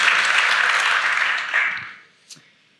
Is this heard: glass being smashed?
no